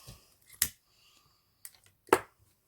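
Scissors make two or three crisp, sharp snips, with quiet pauses between them, as excess material is cut off at a close-up workbench during fly-tying.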